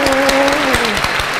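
Studio audience applause on a cooking show welcoming a girl band, dense clapping heard under a voice calling out over it.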